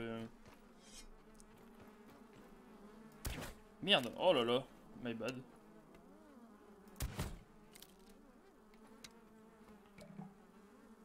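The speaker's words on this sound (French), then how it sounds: "Vache nombre de mouches." Flies in the video game Grounded buzz steadily with a layered, wavering drone, swelling as they swoop near, while a player speaks in French over them.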